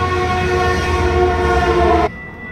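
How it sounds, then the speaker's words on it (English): A train passes near a workplace, its loud steady rumble and rail clatter carrying a sustained horn-like tone that cuts off abruptly near the end, with no talk. "There's a train that goes by my work."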